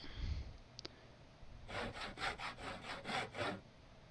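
A hand saw cuts through wood in the Project Zomboid survival game, about seven quick rhythmic back-and-forth strokes after a short click, close and clear with no voices.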